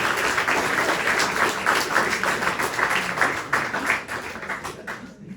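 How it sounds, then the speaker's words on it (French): An audience applauds at an eloquence contest, a dense, steady wash of clapping that holds loud for several seconds before thinning and fading toward the end. "Vous pouvez applaudir."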